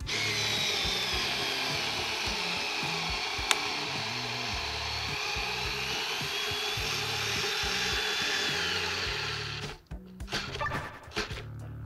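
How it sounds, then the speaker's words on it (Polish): A Xiaomi Mi cordless electric screwdriver drives a screw through three layers of wood, whirring steadily and loudly at close range for about ten seconds before stopping abruptly into a few rattling clicks. "I tutaj będziemy przez trzy warstwy się wiercić."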